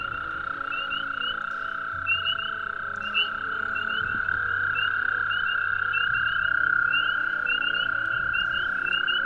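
Toads call continuously in a steady, loud high trill, with faint chirping calls layered above it and a few soft low thumps and rustles underneath. No voices can be heard.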